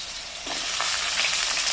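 Potato and papaya pieces frying in a pan for a mixed vegetable curry, a brief close sizzle that swells louder partway through as more pieces go in, with no talking.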